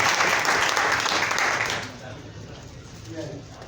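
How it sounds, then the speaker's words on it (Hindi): Loud audience applause in a hall at a business gathering for a network marketing group, strong and steady for about two seconds and then fading into scattered claps and a faint voice. "तालियां उठा देते हैं, जोरदार तालियां"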